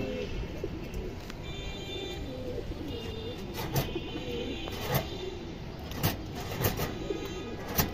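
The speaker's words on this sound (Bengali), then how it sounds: "এটা মাদি কবুতর দর্শক, একদম পুতুলের মতো দর্শক কবুতরটা" Female pigeon cooing in soft repeated rolling calls among other birds' chirps, with a few sharp clicks and knocks nearby and no speech.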